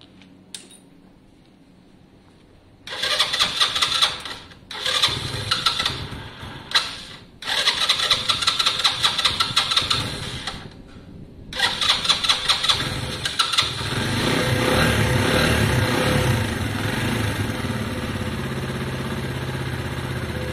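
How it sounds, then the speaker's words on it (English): Small motorcycle engine cold-started on half choke: several cranking bursts with brief pauses, then the engine catches and settles into a steady, close, loud idle as it warms up. "We're going to see a stone cold start up this morning, which will be good."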